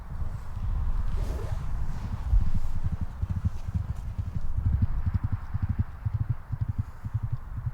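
Hooves of a big horse, likely a middle-distance racehorse, walking at a bloodstock sale, a steady close clip-clop rhythm that runs through the whole stretch over low crowd background.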